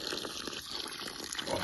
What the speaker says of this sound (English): Don't mind me if I drink a little.